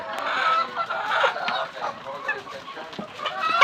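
Hens clucking close by in a poultry yard, a busy run of overlapping clucks and squawks with a few louder calls.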